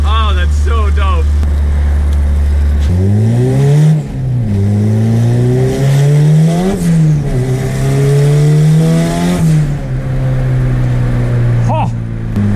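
A turbocharged Honda B18C car accelerates hard, its loud engine note climbing in pitch, dropping at gear shifts, then rising again as boost builds. The run includes a bog on the shift into third gear.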